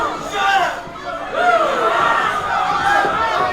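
Crowd at a wrestling match reacting loudly in a continuous roar of shouts and chatter, with a commentator talking over it.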